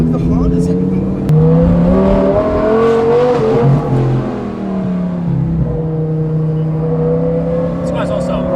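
An Audi R8 sports car engine roars loud and close, revving up and settling into a sustained drone, with people talking over it.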